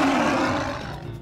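A loud cartoon roar from an underwater sea creature, a tiger shark, comes in one sustained growling burst that slowly fades out, with no talk over it.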